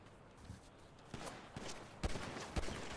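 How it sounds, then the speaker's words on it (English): Gunfire in GTA V NoPixel roleplay, shots coming from a hill during a team fight in Mirror Park: a few sharp, fairly distant cracks over a low background, the loudest pair arriving near the end. "I'm getting shot from the hill."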